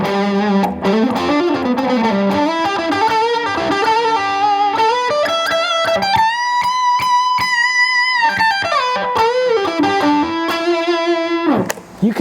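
Fender Stratocaster electric guitar played through an amp with no reverb, a dry, close tone with a run of single notes and sustained bends that ends abruptly with a sharp final strum.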